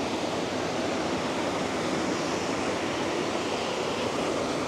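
Constant roaring rush of falling water from a waterfall in Costa Rica, broad and unbroken, steady in loudness with no voices.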